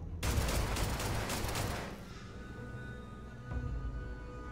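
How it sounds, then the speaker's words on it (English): A loud burst of gunfire in the Starfield video game, dense crackling shots for about two seconds that then cut off, leaving a low background hum with a faint later thump. "What are you shooting at?"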